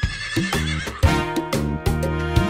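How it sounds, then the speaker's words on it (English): A horse neighing in a children's farm animal song, a loud, close whinny with a bright warbling pitch, repeated in several shaky bursts with a faint clip-clop underneath. "what about my nay nay horse?"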